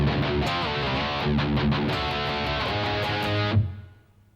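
Distorted electric guitar plays the second four bars of a song, a dense driving riff that runs steadily, then ends with a final struck chord near the end that rings out and fades.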